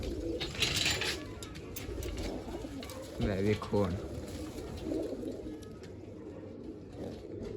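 Pigeons cooing in a loft of about ten kept birds, soft repeated coos close by while someone talks briefly over them.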